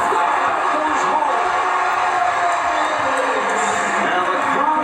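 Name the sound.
crowd cheering at basketball game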